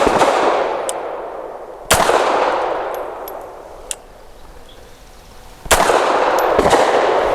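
Three loud gunshots from a .380 pistol at a public shooting range, widely spaced, each a sharp crack with a long decaying echo, with fainter distant shots from other shooters in between.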